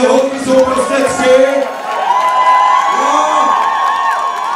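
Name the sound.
applause and cheering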